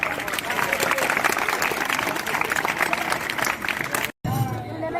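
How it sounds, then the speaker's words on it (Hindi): A crowd at a high school 10th-grade farewell program applauds as prize winners receive medals and trophies, a loud, sustained roar of clapping with chatter mixed in that breaks off abruptly near the end. "तालियां बजाइए कि आपके साथियों को नाम दिया जा रहा है।"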